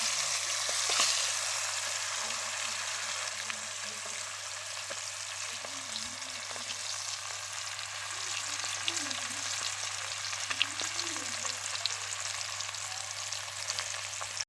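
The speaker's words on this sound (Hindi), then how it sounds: "चिकन जो है अच्छे से फ्राई हो चुका है" Chicken pieces for chicken mandi fry in hot oil with a steady, even sizzle throughout, and occasional faint stirring clinks.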